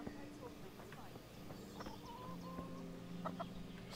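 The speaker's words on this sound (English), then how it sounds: "Some awesome chickens." Chickens clucking around a hen house in Kingdom Come: Deliverance, short scattered clucks and calls over steady game ambience, with someone talking intermittently across the clip.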